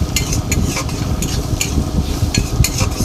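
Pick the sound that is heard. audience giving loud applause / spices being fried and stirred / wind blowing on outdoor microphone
spices being fried and stirred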